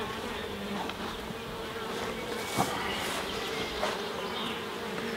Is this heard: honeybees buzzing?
yes